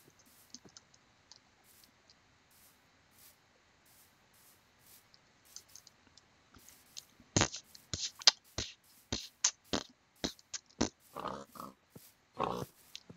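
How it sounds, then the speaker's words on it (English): Blocky pigs grunt and oink in a jungle area in Minecraft, a run of sharp, short clipped sounds that grows denser and louder partway through, over faint quiet beforehand. "Little pig civilization in this jungle"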